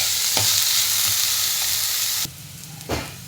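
Onion and capsicum fry in a pan with a steady, loud sizzle that cuts off abruptly, followed by a short stirring scrape and a brief renewed sizzle.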